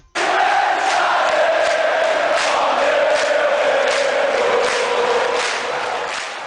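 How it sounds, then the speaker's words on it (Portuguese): Football fans in a stadium during a match roar and chant together, a massive sustained crowd sound starting abruptly and holding steady with rhythmic swells before easing slightly at the end. "os torcedores cantam, pulam, gritam, empurram seu time, vaiam, provocam o adversário e também são provocados por ele"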